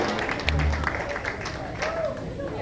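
Live audience applause at a polka band introduction in Toledo, a steady patter of clapping running throughout with voices mixed underneath.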